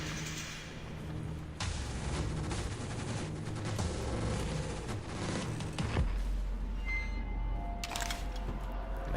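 Dense, sustained gunfire in a video game, with rapid rumbling bursts layered over a continuous roar that shifts partway through to a lower, heavier rumble.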